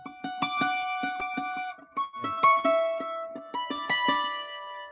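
Mandolin plays two-note double stops and sixth harmonies from a song, bright plucked pairs in a steady walking rhythm with short pauses, close and clear with no talking.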